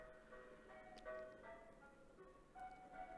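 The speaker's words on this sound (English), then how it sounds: "Ice cream truck." An ice cream truck plays a faint, tinkling melody somewhere in the distance, thin tones drifting over a quiet background hum.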